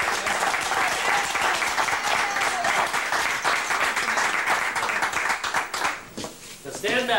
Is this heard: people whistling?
no